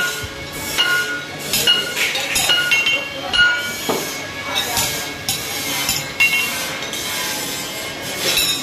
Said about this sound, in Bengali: আবার এদিকে গ্রিলের কাম চলছে।